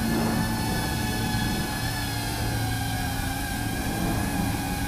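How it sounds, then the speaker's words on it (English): An iFlight Green Hornet budget cinewhoop drone gives a steady, loud whine with several sustained tonal lines that waver slightly as wind buffets it, flying among metal buildings with no voices. "you can hear when the wind kind of hits it, it starts sounding kind of funny too"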